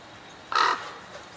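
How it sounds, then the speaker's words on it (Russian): A single short crow-like caw sounds once from a bird at middle distance, brief and clear over quiet background hiss. "Птичка!"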